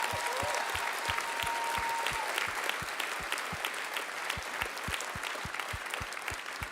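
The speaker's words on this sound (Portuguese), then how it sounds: "Vamos dar uma salva de palmas para Jesus." Church congregation clapping in a steady, rhythmic beat during a worship service, with sharp evenly spaced claps that stay loud and continuous throughout, backed by low thumping pulses.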